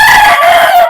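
A loud, close rooster crow, a single sustained call that rings out strongly with no voices around it.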